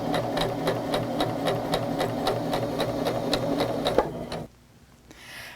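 A sewing machine stitches quilt fabric in a fast, steady mechanical rhythm, loud and close, then stops abruptly near the end, leaving near silence.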